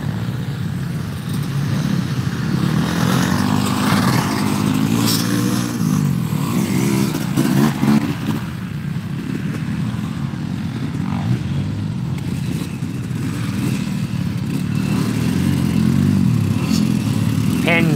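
Old Kawasaki KX125 two-stroke dirt bike at a motocross school track: a continuous raspy engine drone with revving surges, mixed with other bikes and general outdoor rumble, fairly loud throughout.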